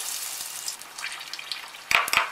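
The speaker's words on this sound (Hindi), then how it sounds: "अब हम गरम तेल में इनको डाल देंगे" Coated paneer sticks dropped into hot oil, a soft steady frying hiss with a few sharper bursts of sizzle and crackle near the end.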